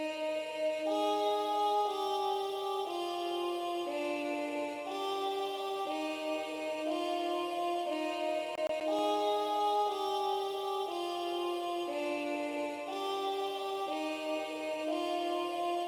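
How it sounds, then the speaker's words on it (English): A simple chopped vocal-sample melody for a UK-style type beat, with sustained, layered vox notes shifting pitch every second or so, played steadily at moderate volume with no drums. "So I wanted to add some vox to it, so I found this vox."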